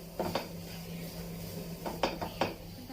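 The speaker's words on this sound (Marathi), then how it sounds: "व्यवस्थित एकजीव करून घ्यायचं आहे।" A spoon scrapes and clinks against a pan while sweet potato sheera with sugar is stirred, a few sharp metallic knocks spaced over a low steady background hum, close and fairly quiet with no talking.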